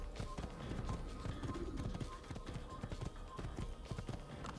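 Horse hooves clip-clop at a steady galloping rhythm in Assassin's Creed, a busy run of close, evenly spaced thuds that continues throughout over a dense background of game sound.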